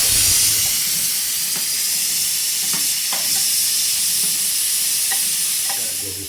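Meat curry with garlic stirred in a sizzling pan, a steady frying hiss with a handful of sharp spoon scrapes spaced through the stretch, close and fairly loud, no talking.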